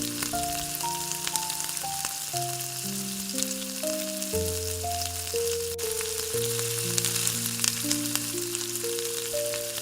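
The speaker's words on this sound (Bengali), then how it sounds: "ভালো করে সবজির সাথে এগুলো কড়াইতে নেড়ে চেড়ে মিক্সড করে দিতে হবে" Steady close sizzling of vegetables being stirred and frying in a wok with hilsa fish head, running throughout beneath gentle background music with no talking.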